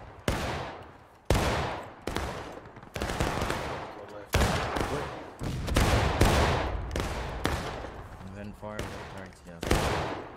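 Heavy bursts of rifle volley gunfire in a video game battle, loud repeated cracks and rolling fusillades with echoing decay, close and dominating the scene.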